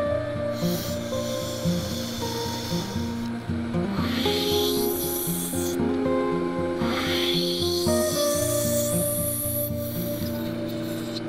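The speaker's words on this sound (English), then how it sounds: "So now that I've given it a quick sand," A dish of cured resin is sanded by hand with long, repeated rasping strokes, a close, continuous gritty rubbing that swells and fades over several passes, with no talking.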